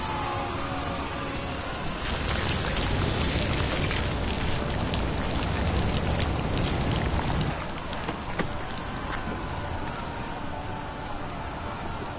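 Rain falls steadily in The Witcher 3 video game, a continuous dense patter with scattered drops and faint hoofbeats beneath it, with no talk.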